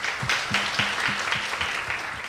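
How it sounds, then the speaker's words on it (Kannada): A studio audience on a singing reality show applauds a contestant, with steady close clapping that holds at an even level for the whole stretch. "ಒಂದು ರೌಂಡ್ ಚಪ್ಪಾಳೆ."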